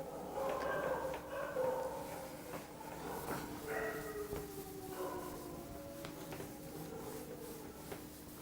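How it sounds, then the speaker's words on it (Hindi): A large pack of dogs barking and howling together, faint and distant, with overlapping wavering cries and yelps across the whole stretch. "बारात आ गई है कुत्तों की, जो मेरे को सुनाई दे रही है, बहुत सारे एक साथ भौंक रहे हैं"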